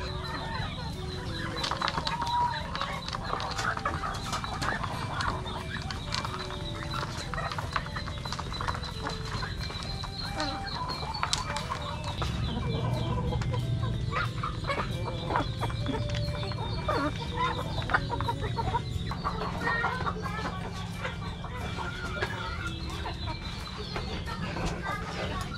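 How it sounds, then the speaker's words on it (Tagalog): A busy farmyard of clucking chickens and quacking ducks at feeding time, steady chatter throughout, with hooflike clopping and some voices mixed in. "pakain tayo sa ating mga alagang pato at manok."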